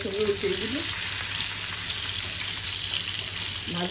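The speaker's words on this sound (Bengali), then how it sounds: "এই যে মাছগুলা বাজা হচ্ছে দেখেন কত সুন্দর" Native koi fish fry in hot oil with a steady, dense sizzle that holds for the whole stretch, close and fairly loud, with brief faint voice sounds at the start and end.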